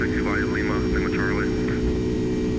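Boeing 767-400 jet engines spooling to takeoff power in the X-Plane 11 flight simulator, a steady loud roar with low rumble throughout, while someone talks over it.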